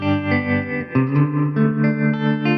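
Electric guitar through a True Spring Reverb pedal's bias tremolo setting, a short burst of sustained, distorted chords with a pulsing, wavering volume and a reverberant tail.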